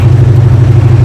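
A "Scoops" Dodge Dart Swinger fitted with new mufflers rumbles loud and close, its deep engine note rising and falling steadily as it revs.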